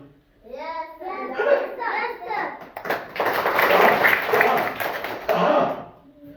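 Primary school children in a classroom in Jaunpur clapping together after a short burst of children's voices, a dense, lively patter of hands that continues to the end.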